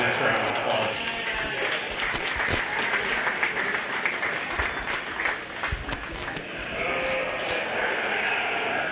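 Crowd applause rings out at a county fair 4H/FFA sheep and lambs show for the exhibitors, a steady, dense clapping sustained for several seconds with an announcer's voice over the top.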